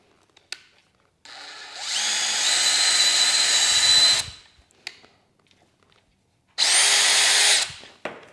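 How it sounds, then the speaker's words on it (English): A power drill with a bit bores holes into wood for mounting O-ring hooks on a DIY garden trellis, two loud sustained whirring bursts of about three seconds and one second with brief clicks between, no talking. "So in order to get these O-rings into the wood, I have my drill with this drill bit."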